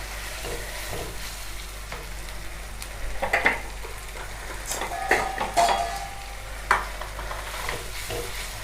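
Masala with a spoonful of sugar frying in a pan for dhaba-style matar paneer, a low continuous sizzle with scattered spatula scrapes and clinks against the pan, close up and without talk.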